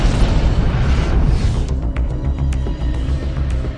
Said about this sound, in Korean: 이젠 땅에서도 처음으로 화산이 폭발한다